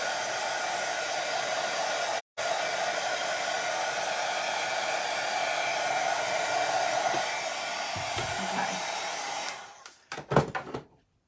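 A hair dryer blows steadily on the underside of a painted pumpkin, a constant close whir that cuts out briefly once, then runs on before stopping with a few clunks of handling at the end.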